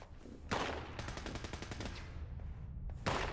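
Rapid gunfire crackles in Fallout 76, a fast burst of evenly spaced shots flanked by two louder single reports, all faint and at a distance.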